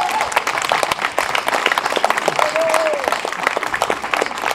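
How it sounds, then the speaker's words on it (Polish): Concert audience applause at a finale concert, loud, dense clapping from a large crowd with crisp individual claps throughout, plus a brief voice or tone rising briefly through the middle. "chciałem poprosić o wielkie brawa dla pana Krzysztofa Marciniaka, który mnie przygotował, i dla pani Natalii Czekanowskiej"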